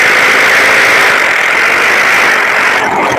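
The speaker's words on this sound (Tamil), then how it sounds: "இப்போ மிஷின் ஓடுது" An electric machine hums loud and steady while a household earthing connection is tested, a constant close drone with no talk.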